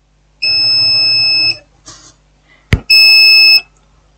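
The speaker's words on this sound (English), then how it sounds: "we can put the multimeter on diode mode" Multimeter set to diode mode gives two loud, steady electronic beeps, each lasting about a second, separated by short clicks and a sharp tap from the probes.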